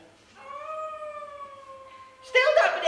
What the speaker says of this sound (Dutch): Het lijkt trouwens meer op een wolf.